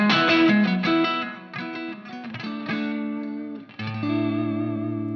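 An electric guitar through a Marshall JCM 800 amp at volume 7 plays distorted chords and single notes, close and clear, ending on a sustained low chord.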